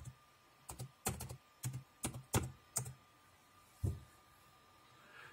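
Computer keyboard keys are tapped while a password is entered, a dozen or so crisp clicks in uneven bursts with short pauses, close by and alone without any talking.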